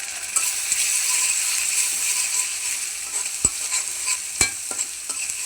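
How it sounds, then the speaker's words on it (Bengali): Ginger-garlic paste, ground coriander, turmeric, chili powder and salt fry in a pan with a soft, continuous sizzle. A few sharp scrapes and knocks from a stirring spatula stand out. No voices. "ভালো করে মশলাটা কষাই নিই।"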